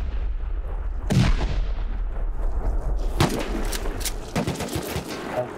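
Incendiary rockets launch in the survival game Rust, with two heavy booming blasts followed by a scatter of sharper cracks and rumbling impacts over constant loud background noise.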